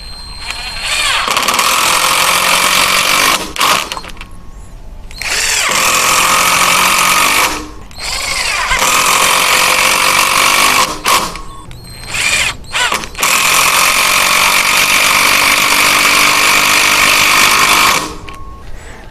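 An IMAX IMIS-12v 12-volt impact driver drives a screw into dense hardwood, making loud rattling hammering bursts that run several seconds each and stop briefly in between.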